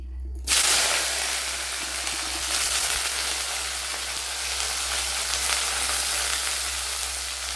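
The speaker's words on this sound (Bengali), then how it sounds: "এবার আমি ফুলকপিগুলোকে কষে নিচ্ছি।" Cauliflower florets sauté in a hot pan for a samosa filling, bursting into a loud, dense, steady sizzle after a short quiet start and holding evenly to the end, with no speech.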